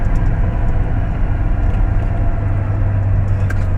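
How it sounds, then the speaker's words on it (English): Loud, continuous low rumble of a Caterpillar C15 truck engine under engine retarder braking, heard close from the cab with a steady deep hum and no voices. "Yep, my retarder's working."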